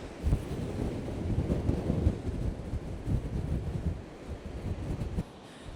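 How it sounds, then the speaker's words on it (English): Steady wind rushes and buffets across open water, with low gusty rumbling throughout and a brief lull near the end. "You can hear the wind in the water."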